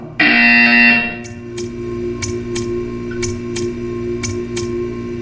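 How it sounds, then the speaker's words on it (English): An alarm-like buzzer from the video game Portal 2 blares loudly for about a second, then gives way to a steady electronic hum with regular sharp clicks. "You will hear a buzzer. When you hear the buzzer, stare at the art."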